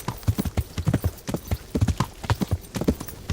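Horse hooves clip-clop at a steady walking rhythm in the video game Kingdom Come Deliverance, close and clear with no talk over them.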